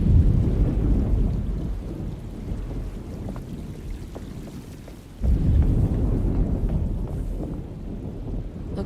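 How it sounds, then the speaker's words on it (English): Thunder rolls and rain pours in a stormy scene from the 2024 video game Alone in the Dark, a steady heavy downpour with low rumbling that swells again partway through, loud and with no voices. "Looks like a storm's coming."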